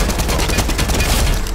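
A video-game gun fires in a loud, dense rapid stream of shots, close and continuous for under two seconds, with no talk over it.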